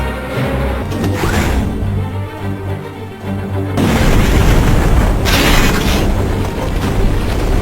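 An explosion aboard a ship in the Star Wars The Clone Wars Jedi Alliance game for Nintendo DS, a loud, sustained rumbling roar that swells into a harsher, denser blast midway and keeps booming to the end, with no voices.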